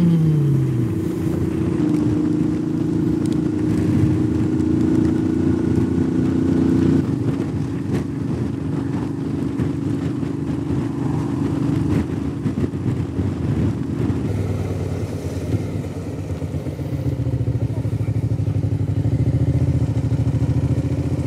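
Suzuki DL650 motorcycle riding steadily over an odd-textured asphalt road, a continuous loud engine drone with a rough, buzzing road hum that shifts in pitch midway, no talking.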